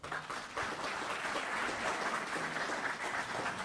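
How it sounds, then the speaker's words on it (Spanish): Audience applause at an indoor panel discussion, a steady, dense wash of many hands clapping together that holds at an even level for the whole stretch with no pause. "Un aplauso, por favor."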